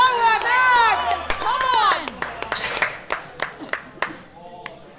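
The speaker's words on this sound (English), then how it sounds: "It's good to hear the crowd rally around him." At a national equipped powerlifting championship, a crowd shouts and cheers for a lifter, then claps in steady rhythmic beats as voices call out over the noise.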